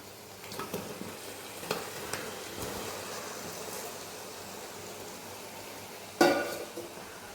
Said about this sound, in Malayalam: ഇപ്പോൾ ഈ ചിക്കൻ ഇനി നമ്മൾ മസാലയിൽ ഇട്ടിട്ട് ഇളക്കാൻ പോവാണ്.